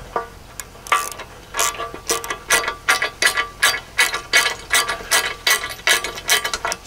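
Hand ratchet with a 19 mm (3/4 inch) socket turning bolts, a rapid series of close, loud clicking pawl bursts in a regular cranking rhythm, with no voices.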